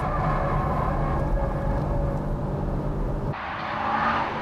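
Nissan GTR and Mitsubishi Evo 7 race cars climbing an uphill section of a circuit, a loud, sustained engine roar with tyre and road noise that shifts abruptly near the end as the cars pass.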